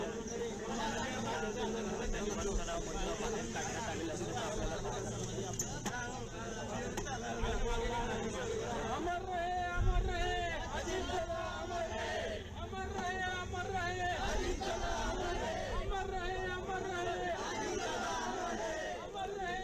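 A large crowd gathered at the funeral of Maharashtra Deputy Chief Minister Ajit Pawar at the Vidya Pratishthan ground in Baramati, Pune district, a continuous murmur of chatter and shouting with a reporter's voice talking over it.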